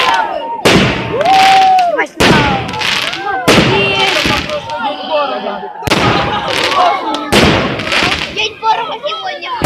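Fireworks and firecrackers going off at a summer camp: a series of loud sharp bangs and crackling bursts in close succession, near and forceful, with excited voices shouting among them.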